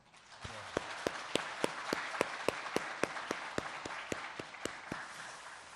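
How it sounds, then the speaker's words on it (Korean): Church congregation clapping for its ministers: sharp, evenly spaced claps build into a quiet, regular rhythmic beat, fairly faint and set back in the room. "우리 한번 더 열심히 사역하시는 우리 사역자들이 박수 한번 할까요?"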